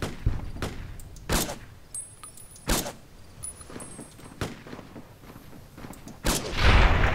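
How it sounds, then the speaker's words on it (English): Scattered gunshots in Fallout: New Vegas: sharp isolated cracks at irregular intervals, some distant, over quiet game ambience, with a louder burst near the end. "Now, I could hear some gunshots going off there."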